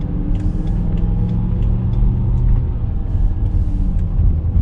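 A BMW E60 M5 with a 400-horsepower setting and SMG gearbox in automatic cruises smoothly through town, giving a steady low engine and road rumble heard from inside the cabin.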